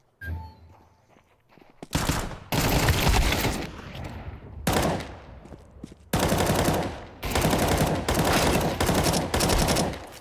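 A Negev machine gun in a video game, firing long sustained automatic bursts broken by short pauses, loud and close throughout.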